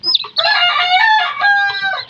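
Close and loud, a Talisay fighting cock lets out a strong, drawn-out crow after a couple of quick clucks, the harsh call holding for well over a second before trailing off.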